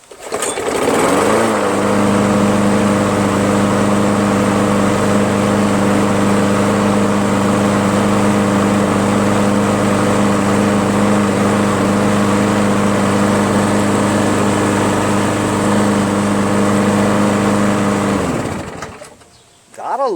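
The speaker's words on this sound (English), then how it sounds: "love them quantum engines" A Craftsman 21-inch push lawn mower with a Briggs & Stratton Quantum 6 hp engine runs at a steady, smooth idle for about seventeen seconds, loud and close, then cuts off near the end.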